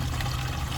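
Water pours steadily into a 5 gallon bucket being filled to trickle-water plants on a hot July day, a close, continuous liquid rush with no talk.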